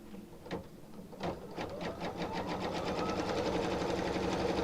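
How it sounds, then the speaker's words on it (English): An embroidery sewing machine runs a straight tack-down stitch, a steady rapid mechanical chatter that starts with a few separate knocks and settles into a continuous close, even rhythm without talk. "And while it's sewing"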